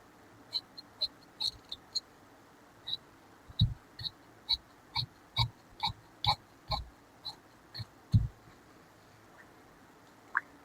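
Scissors cut through blouse lining fabric in a series of quiet, crisp snips, some spaced apart and some in quick runs, heard close up with no talking.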